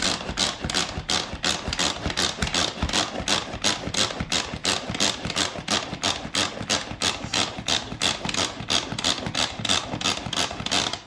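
Manual pull-cord food chopper spinning to mix egg roll filling, a fast rhythmic whirring and rattling in rapid even pulses, close and continuous.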